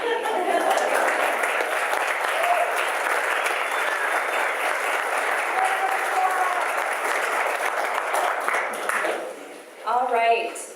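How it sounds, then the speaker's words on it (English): Sustained audience applause at a business stage event fills most of the stretch at steady volume, thinning out near the end as a voice begins speaking. "I think we have to give them another round of applause"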